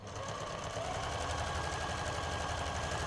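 Sewing machine stitching a patchwork stocking, running steadily in a fast, even mechanical rhythm, close and fairly quiet, with no talk.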